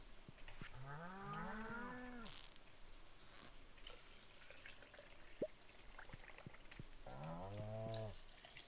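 Cows in the farming video game Stardew Valley moo twice, a long drawn-out call near the start and a second one near the end, with quiet farm ambience between.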